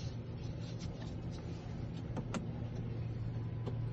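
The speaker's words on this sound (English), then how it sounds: "we're gonna go ahead and start the vehicle" A 2023 Land Rover Defender's engine runs with a steady, close, low rumble for about four seconds, with a few faint clicks on top and no talking.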